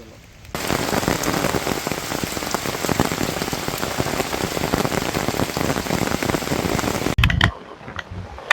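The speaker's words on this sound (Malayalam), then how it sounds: "വീണ്ടും ഭയങ്കര മഴയാണ്" Heavy rain during flooding at Pooyamkutty pours down steadily in a dense, loud, unbroken roar that stops abruptly near the end, followed by a few scattered thumps.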